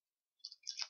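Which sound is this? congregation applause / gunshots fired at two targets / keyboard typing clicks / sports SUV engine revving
keyboard typing clicks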